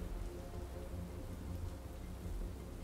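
Steady rain pours onto the Batmobile in the video game Batman: Arkham Knight, a dense continuous hiss with low rumbling underneath, fairly quiet and without pause.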